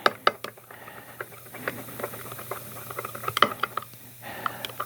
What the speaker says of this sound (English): We put a 1/16 of the ruby slippers in there, and we're going to get this stirred in